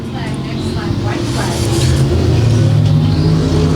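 A pure stock car roars steadily down the back straightaway at a dirt-track race, a loud, continuous engine drone with rising pitch, under an announcer's commentary.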